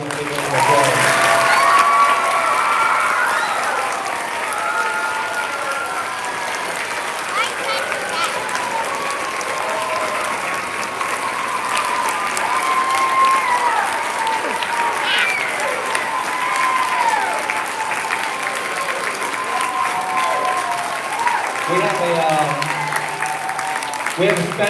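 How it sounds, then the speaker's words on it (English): An elementary school audience at a veterans program gives Vietnam veterans a long round of applause mixed with crowd noise, while talk carries on over the clapping throughout at close range. "So let's give them a real round of applause."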